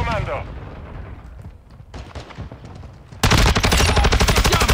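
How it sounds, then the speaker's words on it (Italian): Rapid automatic gunfire in a first-person shooter video game, loud and sustained over the final second and a half, after scattered quieter shots under a voice. "Minchia, sto sparando tutti qua."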